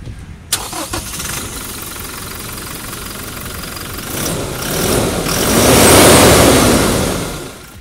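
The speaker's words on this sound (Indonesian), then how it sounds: "Dan kita pengen denger dulu suara mesinnya." A 2020 Toyota Hilux with a 2.4 L 2GD-FTV turbo diesel cranks and fires up with a sharp start, then settles into a steady, clattering idle, close and loud, with a brief rise in revs near the end.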